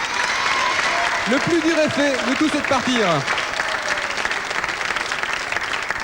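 An audience on a game show applauds a team, steady clapping throughout with someone speaking over it in the middle.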